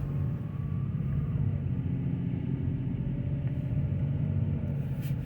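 Steady low rumble of a BMW E38 driving on a bumpy road, heard from inside the cabin, continuous road and engine noise with no talking.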